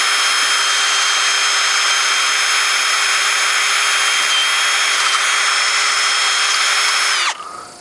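A power drill bores holes for a DIY power-pole kayak anchor, running at a steady high-pitched whine for about seven seconds, close and loud, then winding down abruptly.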